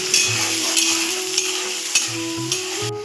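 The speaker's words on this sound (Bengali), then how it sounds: "এবার পেঁয়াজটা আর রসুনটা লাল ভাজা হয়ে গেল" Chopped onion and garlic fry until reddish-brown in a pan of hot oil, giving a close, steady sizzle with repeated spatula scrapes from stirring throughout.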